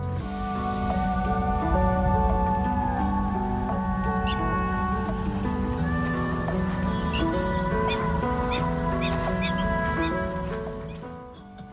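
Birds and geese calling at the Yamuna riverfront park in Delhi, a dense continuous chorus of overlapping honks, chirps and squawks, loud and close, with no pause throughout.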